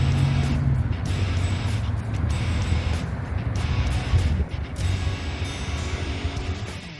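A nearly 30-year-old Trabant car with no air conditioning, driving on the road, its engine and road noise a loud continuous drone that holds steady throughout, with no voices.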